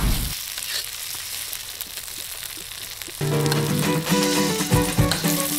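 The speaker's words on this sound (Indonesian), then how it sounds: "Sayok dicampurkan ke dalam bumbu woku yang sudah ditumis harum" Sayok stirred into woku spice paste sizzles steadily in a hot pan, a soft crackle at first that turns into louder, fuller frying with clattering stirs midway, close and continuous with no talk.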